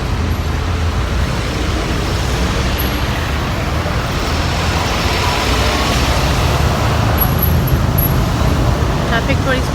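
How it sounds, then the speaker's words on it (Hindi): Road traffic in Kuala Lumpur, Malaysia: a dense, loud, continuous wash of engines and tyres from cars, buses and trucks. It stays steady and close without pause throughout. "ट्रैफिक थोड़ी सी खुली है अभी"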